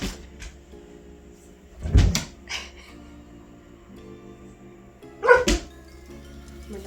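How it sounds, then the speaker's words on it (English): Dogs playing in a home kitchen: two short bursts of barking and scuffling a few seconds apart, loud and close against a quiet background hum. "My dogs are playing."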